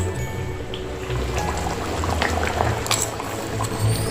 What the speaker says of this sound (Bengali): খুব ভালোভাবে এটা ফুটছে